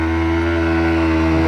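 A motorcycle pulling a wheelie during a crazy stunt session, its engine droning steadily and loudly at close range with a strong harmonic hum, no talk over it.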